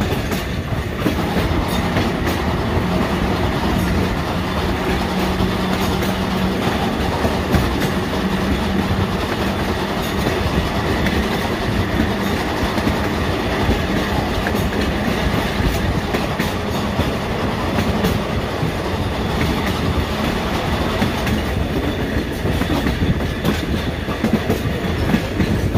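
A trolley car runs along rail track at Steamtown National Historic Site with a steady, continuous rumble and clickety-clack of wheels over rail joints, loud and close throughout with no talking.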